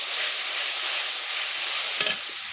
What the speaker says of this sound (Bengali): ওই তেলে দিয়ে দিচ্ছি পেঁয়াজ গাছে